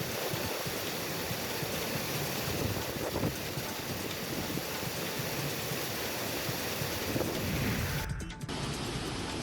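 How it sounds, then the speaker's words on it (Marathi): Water rushes over a full dam's spillway in Maval after days of heavy rain, a constant broad roar mixed with wind buffeting the microphone. "सांडव्यावरनं पाण्याचा मोठा विसर्ग होतोय"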